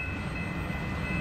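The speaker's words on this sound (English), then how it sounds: "Westbound stack train" Union Pacific westbound double-stack freight train rolling past, a steady loud rumble and rail roar with a thin high whine throughout, close and continuous.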